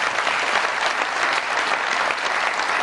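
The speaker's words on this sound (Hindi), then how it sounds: "बहुत सारी तालियों में वेलकम कीजिएगा" A studio audience at a comedy talk show bursts into steady, dense applause, a loud, continuous wash of clapping throughout with no voices over it.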